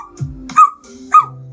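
A voice imitates a puppy with two short, high whimpering yips, each preceded by low breathy murmurs, close up and fairly loud.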